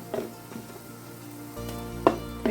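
Turmeric, asafoetida and chilli powders hit hot oil with fried ginger for a fish pickle, a soft close sizzle broken by a few sharp spoon taps and clinks against the pan, with no one speaking.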